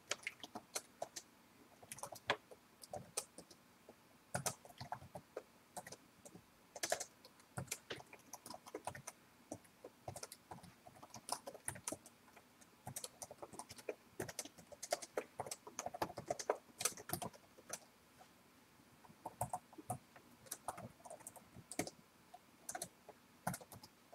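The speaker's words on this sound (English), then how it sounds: "now I'm going to type the code for the web page" Computer keyboard typing while web page code is entered in a text editor: irregular bursts of quiet clicking keystrokes at close range, with short pauses and no talking.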